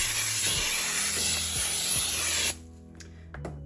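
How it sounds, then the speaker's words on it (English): Baking spray hisses from a can into a cake pan in one steady, close burst lasting a couple of seconds, then cuts off, followed by a light clink. "I'm going to spray just a little more baking spray inside."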